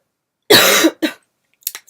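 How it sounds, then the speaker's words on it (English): A single harsh cough burst followed by a shorter second one, then a few faint throat sounds, close and alone in a quiet indoor setting during a makeup tutorial. "Sorry, I have a little bit of a cough."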